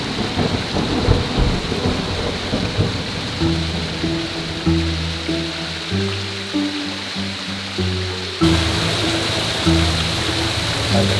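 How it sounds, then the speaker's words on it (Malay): Heavy downpour roaring steadily with deep rolling thunder beneath, continuous and loud, overlaid by low sustained music tones in the second half. "Pada hari tersebut, hujan turun selebat-lebatnya."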